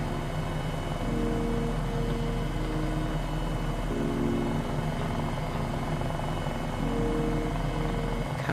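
A 500E helicopter hover taxiing, heard from inside the cabin as a loud, constant engine and rotor drone with a steady thrum that swells slightly now and then, with no voices.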